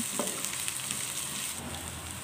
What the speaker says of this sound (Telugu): ఉల్లిపాయలను చీలికలుగా కోసుకొని పొడవుగా కోసుకున్న ముక్కలను వేసుకొని కొంచెం పసుపు వేసుకొని వేయించుకోవాలి